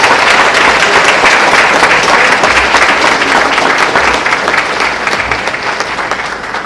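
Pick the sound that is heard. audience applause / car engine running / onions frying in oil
audience applause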